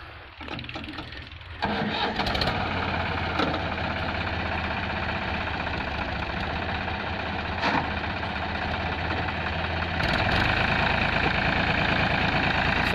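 A New Holland 5500 tractor hitched to a 9-foot Shaktiman rotavator cranks and catches, then settles into a loud, steady diesel idle with a low throbbing rumble, and revs slightly harder near the end.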